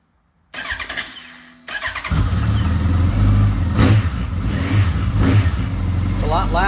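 A Honda CB1100 motorcycle fitted with Wyvern exhaust pipes cranks on its starter, then catches and settles into a loud, close, throaty idle with a deep, steady rumble.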